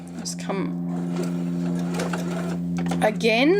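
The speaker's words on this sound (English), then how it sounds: "when you start stitching, you're not going to pull that point down into your sewing machine" A sewing machine runs steadily while stitching quilt fabric for an Ohio Star block, giving a continuous close mechanical hum and whir. Someone talks over it the whole time.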